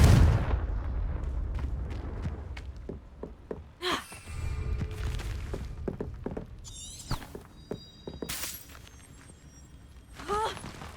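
Confringo blasting spell from Hogwarts Legacy erupts in a sharp opening burst, followed by scattered thuds, crackles and whooshing spell effects across the game scene, ending with a few brighter bursts.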